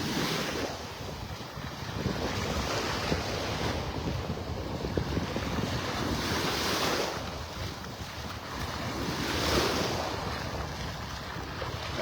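Ocean surf rolls in at Vanderbilt Beach in North Naples, Florida, with steady breeze buffeting the microphone; waves swell and break in broad, continuous washes, loud and close, with no talking.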